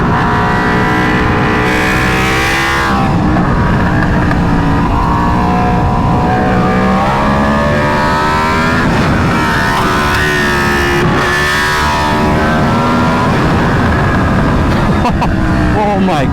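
An Aprilia RSV4 superbike's engine revs hard and close up, its pitch climbing and dropping in repeated throttle bursts, with voices talking over it.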